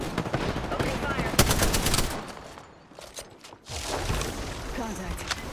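Bursts of rapid gunfire crackle loudly for about two seconds, fall away into a brief lull, then resume as sustained shooting, with voices calling out over the shots.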